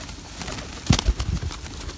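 A rescued pigeon coos softly close by in a few low, muffled throaty pulses, partly buried in steady background noise.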